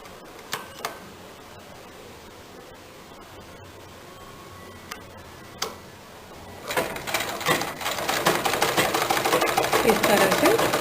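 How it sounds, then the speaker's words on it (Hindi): Home sewing machine stitching the front and back darts of a kurti, a quiet setting with a few clicks before a rapid, steady mechanical whirr starts partway through and continues to the end, with someone talking throughout. "सबसे पहले आगे और पीछे के डार्ट को सिलेंगे।"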